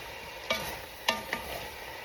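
Cabbage with butter being stirred in a pot: a steady low sizzle broken by three short scraping clatters of the spoon, close and moderately quiet.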